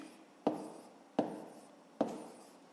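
A pen or pencil writes down a math answer in three short, distinct scratchy strokes, evenly spaced and close, in an otherwise quiet room.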